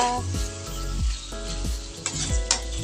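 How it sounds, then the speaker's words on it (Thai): Sliced pork frying with curry paste in a pot over raised heat, a loud continuous sizzle broken by rhythmic spoon scrapes against the metal every half second or so. "เราก็จะเปิดไฟขึ้นอีกสักหน่อยหนึ่ง แล้วก็คนคนคนกุเลกุเลนะคะ"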